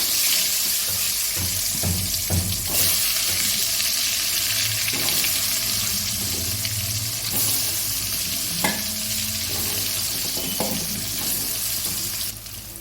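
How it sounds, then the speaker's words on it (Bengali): Potatoes frying in a pan for a Bengali mutton curry, a dense loud sizzle running throughout with scattered scraping taps of a stirring spatula, no talking. "আলুগুলো ভেজে দেবো"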